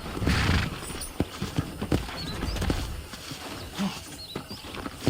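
Rhythmic horse hooves clip-clopping alongside a couple of neighs and whinnies in Red Dead Redemption, fairly close and clear with little else around.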